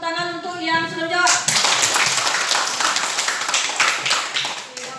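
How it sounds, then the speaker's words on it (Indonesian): A classroom of students claps for classmates who answered a question, with a clear burst of close, busy hand clapping starting after a teacher's voice and carrying on to the end. "berikan tepuk tangan untuk yang sudah jawab"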